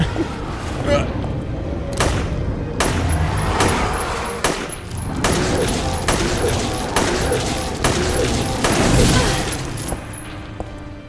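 Repeated gunfire from the survival horror game Silent Hill 3, sharp bursts of shots at irregular intervals over a dense, continuous game soundscape, with a voice speaking over the action.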